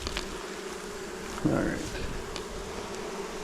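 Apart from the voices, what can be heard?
honey bees buzzing at a nuc hive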